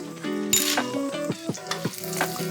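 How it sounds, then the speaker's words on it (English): Gnocchi stirred in a skillet with Italian seasoning and red pepper flakes sizzles loudly up close, with a sharp burst of hissing near the start and several scraping strokes of the stirring utensil. "We're going to stir that up."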